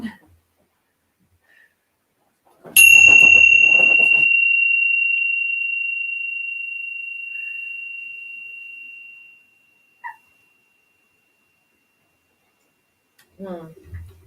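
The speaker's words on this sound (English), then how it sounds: "I need to click my bells." A single bright bell-like chime strikes once and rings out, its tone slowly fading over several seconds. Brief clicks and faint noises come before and after.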